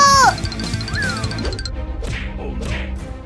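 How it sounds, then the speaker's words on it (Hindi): Cartoon cats meow in high, sliding cries after a brief crash, with scattered thumps and chaotic sound effects. "कैट्स की आवाज आ रही है, लगता है वो किसी मुसीबत में है।"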